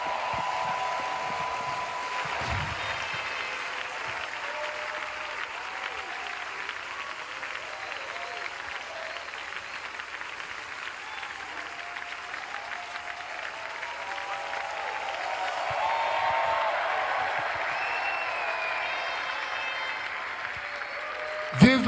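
A church congregation at COZA applauds during a live worship service, sustained clapping that swells near the end, with a voice speaking faintly over it.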